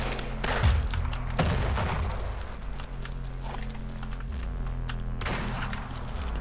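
Automatic gunfire bursts in the video game Weird West, several rapid volleys separated by quieter gaps, moderately loud over low game ambience.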